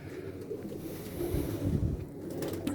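Pigeons in a loft coo softly and repeatedly at close range, a low murmuring run over steady background noise, with no talk.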